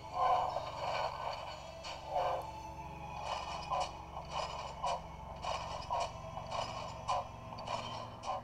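A small motor in a toy Star Wars AT-AT walker whirs with a steady mechanical hum and repeated clicking ticks in a regular walking rhythm, close and fairly quiet.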